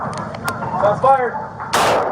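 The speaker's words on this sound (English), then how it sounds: "Shots fired!" Gunfire during a police response to a shooting in a Las Vegas hotel: several sharp, loud shots in close succession, then a final louder blast, with shouting voices in between.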